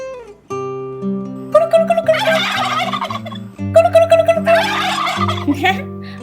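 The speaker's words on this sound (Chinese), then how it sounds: "火鸡咕噜咕噜对伊咧叫" Two bursts of rapid, burbling turkey gobbling ring out over steady musical tones, each lasting about a second.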